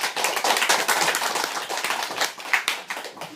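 Audience applause at a high school debate: dense, steady clapping from many hands throughout, loud and close, thinning slightly toward the end.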